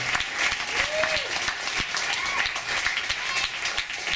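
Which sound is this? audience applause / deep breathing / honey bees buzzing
audience applause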